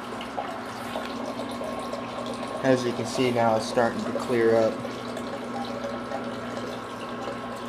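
Water pumps steadily through a Bulk Reef Supply phosphate reactor on a reef aquarium, giving a constant running, trickling hum while someone talks over it in the middle.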